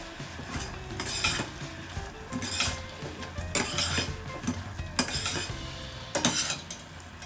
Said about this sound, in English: add pinch of hing powder into it. Then stir it well